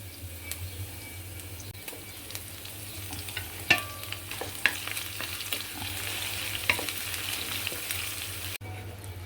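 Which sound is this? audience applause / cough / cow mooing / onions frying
onions frying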